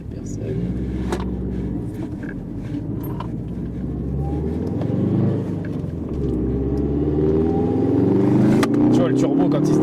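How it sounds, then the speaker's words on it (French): A turbocharged car accelerates hard on an open road, its engine note climbing steadily in pitch and loudness as the turbo comes in, heard close from inside the car. "Tu vois le turbo quand il se déclenche."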